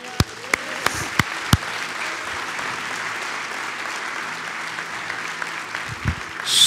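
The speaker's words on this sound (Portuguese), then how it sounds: "Aplauda o Senhor." A church congregation applauding together, a broad steady wash of clapping sustained throughout, with a few sharp louder claps near the start and faint voices beneath.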